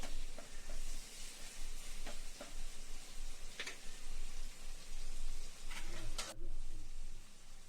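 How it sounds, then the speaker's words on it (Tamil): Ingredients sautéing in hot oil for a tamarind yam curry, a continuous close sizzle with scraping stirs and occasional louder spatters, no speech. "நல்லா வதக்கிட்டு"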